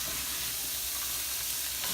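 Garlic, green onion and cauliflower are stirred in a hot pan, a close, steady sizzle of frying with light scraping from the stirring.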